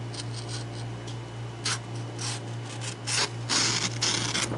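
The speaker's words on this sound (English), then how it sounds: "Let's cut some stuff. Heavy duty stock paper." A Gerber Quadrant folding knife slices through heavy-duty stock paper, giving scratchy rasping bursts of cutting over a steady low background hum, close up with no talking.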